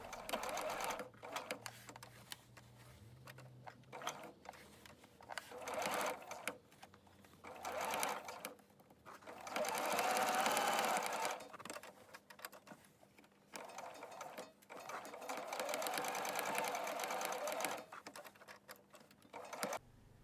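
A sewing machine stitches jacket fabric about 1 cm from the edge, running in steady mechanical bursts with brief pauses between them, close and fairly quiet.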